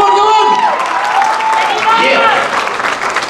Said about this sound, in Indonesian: Jadi satu tepukan paling gemuruh untuk Mr. Kua.